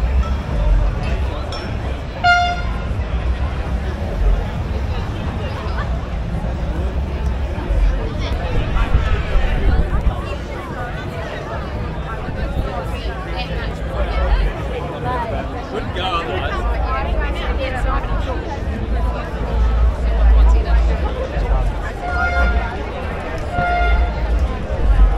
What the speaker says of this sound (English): Awesome crowd here, great crowd.